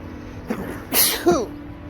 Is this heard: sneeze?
yes